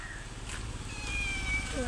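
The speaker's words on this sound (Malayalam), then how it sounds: "എൻ്റെ പൂച്ചനെ കാണിച്ചു തരണ്ടേ?" A house cat gives a few soft, high meows, faint and close, over a low background hum.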